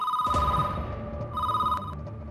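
A telephone rings loudly and close by in two electronic bursts separated by a short pause, heard alone in an Indian film scene.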